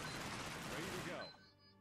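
Gunfire rattles through a zombie horde-mode battle in the strategy game Cepheus Protocol as a dense, rapid volley of shots that cuts off abruptly, leaving a quiet tail.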